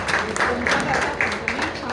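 Audience applause at a Marathi light-music concert, a brisk dense patter of clapping that carries evenly and close throughout.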